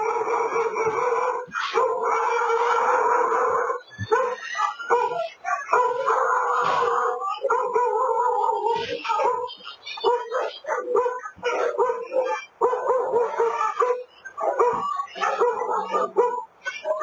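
A pack of four dogs howls, yelps and barks while attacking an elderly woman in news footage, the loud frantic canine noise continuing with brief pauses, mixed with a presenter's voice and other speech.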